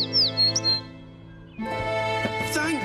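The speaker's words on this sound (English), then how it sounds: "The real mother bird is here." A cartoon mother bird gives a few quick, bright chirps at the start, then gives way to a sustained musical cartoon soundtrack with some squeaky accents; no speech.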